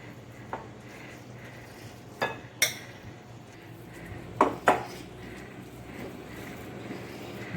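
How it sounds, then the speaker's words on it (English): Mashed rajma is mixed in a bowl against a steady low background hum, with a few sharp clinks and scrapes of a utensil on the bowl scattered at irregular intervals, close but fairly faint. "We'll mix it well so that it binds with our rajma."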